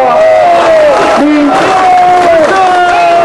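A crowd at an outdoor election campaign rally cheers and applauds loudly and continuously while an amplified voice calls out over the noise.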